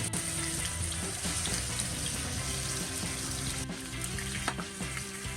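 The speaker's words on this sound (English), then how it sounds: "add a wee bit of oil to your fry pan, and over a medium heat, sear the pork on all sides until it's golden brown" Chashu pork searing in a little oil in a fry pan over medium heat, giving a steady, close sizzle and crackle with occasional sharper pops.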